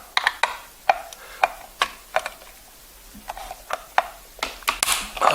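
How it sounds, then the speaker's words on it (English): Screws are backed out of a DC solar charge controller during a teardown: a run of close, sharp metallic clicks and ratcheting ticks from a screwdriver, irregular and repeated, with no talking. "Let's remove the screws"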